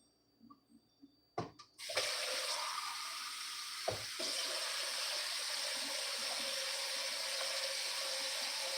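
Water pours in a steady, continuous stream into a pot of egusi stew, starting after a few soft clinks and knocks and carrying on close by without talk.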